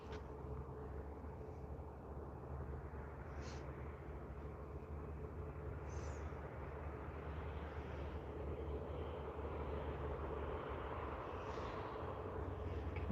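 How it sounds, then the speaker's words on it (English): An Air Canada Airbus A220 departs Vancouver International Airport, a low steady jet engine roar heard from a distance, continuous and fairly faint throughout. "We do have Air Canada Flight 568 departing out to San Francisco. Aircraft type is an Airbus A220."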